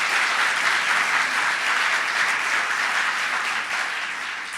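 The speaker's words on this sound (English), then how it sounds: "Let's give him a round of applause." A large crowd at a gubernatorial inauguration in Buffalo gives loud, sustained applause for the county executive, thick continuous clapping that eases slightly toward the end.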